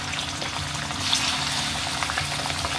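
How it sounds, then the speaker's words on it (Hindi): Chicken liver (kaleji) dropped into well-heated oil fries with a steady, dense sizzle and crackle that swells briefly after it goes in, continuing evenly throughout with no voices. "यहाँ पे दोस्तों तेल हमारा खूब अच्छे से गर्म हो चुका है और इसमें हम डाल देंगे कलेजी।"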